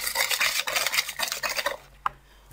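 A utensil stirs coffee granules into mirror-glaze cake batter in a bowl, making quick close scraping and rubbing strokes for about two seconds, then a single soft clink before quiet.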